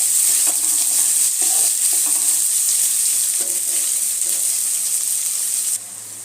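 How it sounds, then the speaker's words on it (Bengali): Chopped onion fries in oil in a pan, a loud close hiss with intermittent stirring scrapes, the sizzle dropping away abruptly near the end. "পেঁয়াজটা হালকা লাল লাল করে একটু ভেজে নেব"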